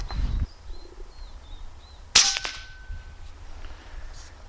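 A single sharp, snapping report from a PCP air rifle firing a pellet through a moderator, close by, followed by a brief ringing decay against a quiet outdoor background with faint birdsong.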